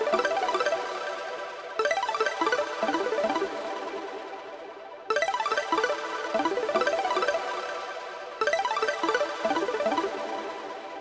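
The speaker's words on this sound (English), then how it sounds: "those crazy arps that sounds like this" Gliding synth arpeggios in a hardgroove techno track repeat in bright, rapid sweeping runs over a driving beat. The pattern restarts in looping phrases.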